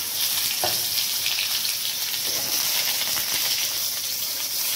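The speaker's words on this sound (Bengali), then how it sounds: "ডাঁটাটা হালকা একটু ভেজে নেব।" Sajne drumsticks lightly frying in oil with black cumin in a kadai, giving a steady, close sizzle and hiss with faint stirring scrapes, and no voice.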